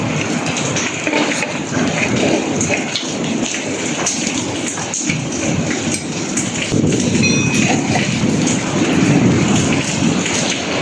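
Heavy rain pours down steadily, a dense close hiss with a low rumbling undertone and no voices.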